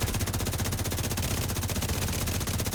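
Rapid automatic gunfire rattles in a steady, unbroken burst from a weapon in the shooter game The Division 2, loud and close with no talking.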